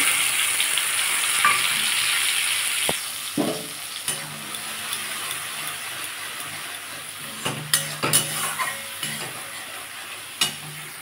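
Pointed gourd frying with a spice paste, a steady broadband sizzle running throughout while a spoon scrapes and stirs in occasional sharp knocks and clatters against the pan.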